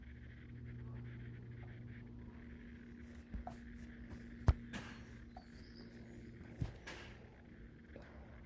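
A dog pants quietly nearby outdoors, a soft rapid rhythmic breathing over a low steady hum, with a couple of faint clicks and taps.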